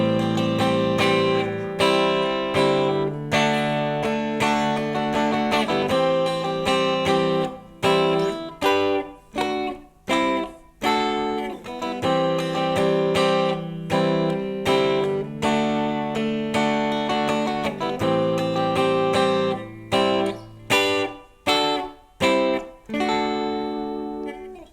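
An acoustic guitar plays the chords of the verse of a song, with sustained ringing chords broken by rhythmic strummed stops, close and clear, with no voices.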